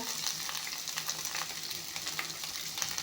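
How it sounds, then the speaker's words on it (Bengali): Onions and green chillies frying in a pan, giving a steady close sizzle with faint crackles throughout and no voices. "এতিয়া পিঁয়াজখিনি দিম পিঁয়াজ জলকীয়া"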